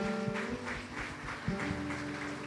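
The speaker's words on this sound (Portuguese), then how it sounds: "Aplauda o Senhor" Congregation applauding during a Sunday morning church service, a steady diffuse patter of many hands with a sustained tone underneath, moderately loud throughout.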